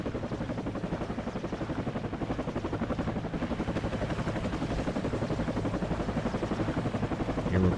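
A video game helicopter's rapid rotor chop thumps steadily throughout, even and mechanical, with no voices over it.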